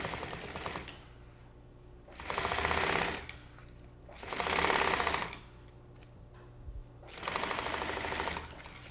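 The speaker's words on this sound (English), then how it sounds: "and sew down the folded edge" A sewing machine stitching down the folded edge of a zipper panel runs in three loud, even bursts of a couple of seconds each, separated by quieter pauses.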